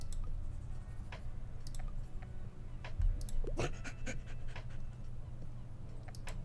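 A dog in the Tiny Bookshop video game pants quickly and steadily at close range, with small clicks and ticks scattered over the soft, quiet breathing.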